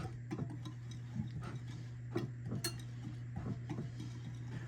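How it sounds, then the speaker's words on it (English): A utensil scrapes and taps in a pan as melted butter and chocolate are stirred together, soft irregular clicks over a steady low hum, close and fairly quiet. "Just give it a stir."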